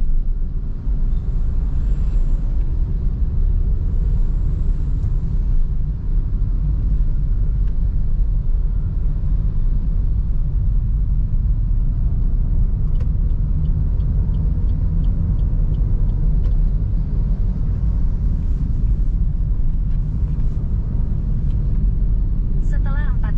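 A Suzuki Ertiga pulls away and accelerates on a road toward Kudus, heard from inside as a steady, loud engine and road rumble that continues unbroken throughout.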